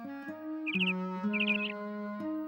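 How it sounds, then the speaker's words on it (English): Two short bursts of bright bird chirping ring out over a sustained, steady musical tone. "awakened by the sound of a chirping bird just outside her window"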